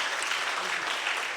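Audience applause at a university forum lecture, a brief, dense, steady burst of many hands clapping together in a hall.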